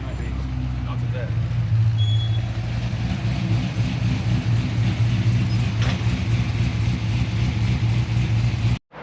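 A Chevrolet Camaro engine runs steadily outside a shop, a loud, low, continuous rumble that holds for several seconds and then cuts off abruptly at the end.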